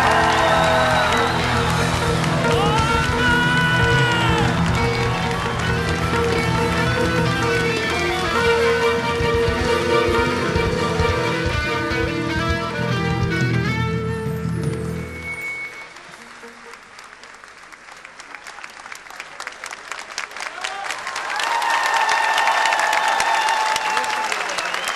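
A concert audience applauds and cheers to welcome a rock musician, heard over loud live band music that cuts out midway, leaving a dip in the noise before the applause and whoops swell again.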